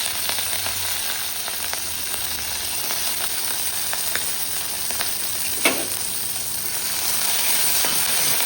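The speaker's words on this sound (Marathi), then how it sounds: "तूप घातलेले तुपाची फोडणी करणार आहे तुम्ही तेलाची पण करू शकता आता यामध्ये आपण कट केलेली मिरची घालायची" Chopped green chillies sizzling in a spoonful of hot ghee for a tempering, a steady close crackle with faint scattered pops and one sharper spatter midway, no voices.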